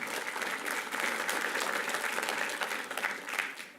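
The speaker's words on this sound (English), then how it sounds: "I think we should give ourselves a round of applause for that" A county management team gathered for a meeting gives itself a round of applause, a thick, sustained wash of many hands clapping at even loudness throughout, with no voices over it.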